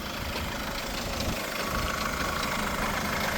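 A 2012 Korando Sports pickup truck engine idles steadily at close range, a continuous even rumble with no voices over it.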